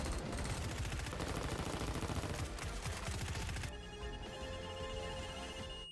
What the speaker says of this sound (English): We got the whole firefight going on here now